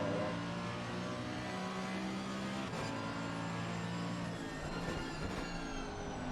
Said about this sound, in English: I can hear car sounds.